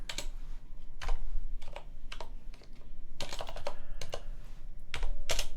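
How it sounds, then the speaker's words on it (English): Typing on an Azerty computer keyboard during an Arch Linux setup produces irregular bursts of close, crisp key clicks with short pauses between runs and no talking. "Now I can type blind again."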